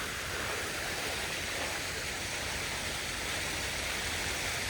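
Outdoor flowing water in Detroit, a steady broadband rushing wash that stays even and continuous throughout, like a fountain or cascade heard up close with no speech.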